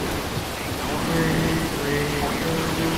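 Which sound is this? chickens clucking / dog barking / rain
rain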